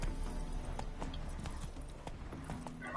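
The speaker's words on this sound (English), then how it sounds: "I didn't realize he called all of the horses Roach." Horse hooves clop in a steady rhythmic gait in The Witcher 3, with the horse ridden across open ground over continuous game ambience and a few sharper footfalls standing out.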